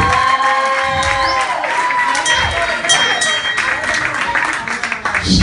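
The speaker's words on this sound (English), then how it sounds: "clap it up for Jenny behind the bar" Crowd in a bar on a Wednesday night cheering and shouting for the bartender, a dense, loud wash of voices and whoops with some clapping mixed in throughout.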